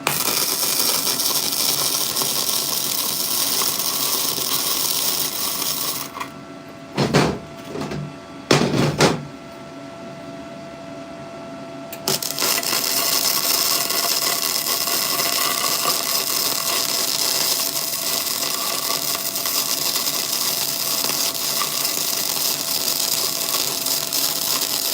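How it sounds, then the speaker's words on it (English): Arc welding at full penetration: a loud, steady crackling buzz runs for several seconds, breaks off for a few seconds with short bursts, then resumes and holds unbroken to the end. "we are going to weld the living poop out of this thing."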